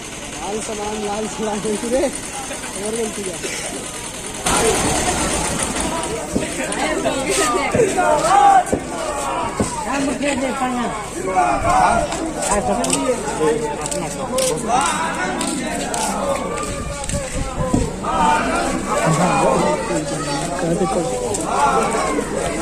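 A large crowd at an outdoor political rally in Arwal, where a local MLA speaks against opponents of the farm bill, keeps up a loud, continuous roar of voices, shouts and chatter, with people talking over it throughout.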